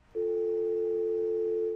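Telephone dial tone, a steady continuous electronic hum that starts suddenly and holds unbroken at an even level, heard alone without talk.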